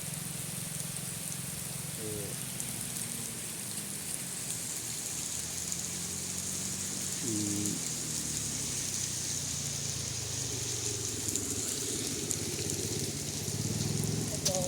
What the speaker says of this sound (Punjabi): ਮੀਂਹ ਵੀ ਬਹੁਤ ਪੈ ਰਿਹਾ ਮੀਂਹ ਦੀ ਸਪੀਡ ਦੇਖ ਲਓ ਤੁਸੀਂ ਕਿੰਨਾ ਮੀਂਹ ਪੈ ਰਿਹਾ